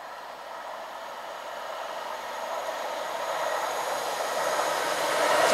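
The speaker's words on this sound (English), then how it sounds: "here comes the 380 going to Gourock non-stop" A Class 380 electric train passes non-stop through Hillington East toward Gourock, a steady rushing roar that swells louder as it nears, with no voices.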